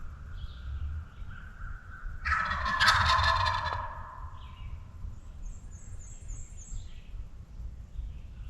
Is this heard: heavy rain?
no